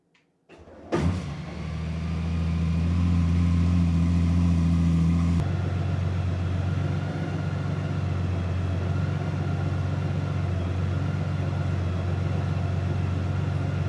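A brand-new 2025 Honda Goldwing motorcycle engine starts up, then runs with a loud, steady, close drone that shifts to a slightly rougher tone partway through. No one speaks.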